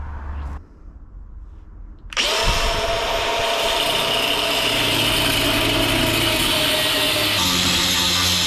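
An angle grinder cuts into metal on a Mercedes 190E that is being lowered, starting abruptly after a brief quieter moment and holding a loud, steady, harsh whine close by.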